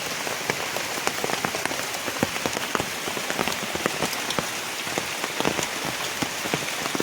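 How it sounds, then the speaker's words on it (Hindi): Steady rain falls through a forest on a trekking trail near Thane, Maharashtra, a dense continuous patter of drops on leaves and ground, close and even, with no voices. "बारिश देखिए लगातार लगी है"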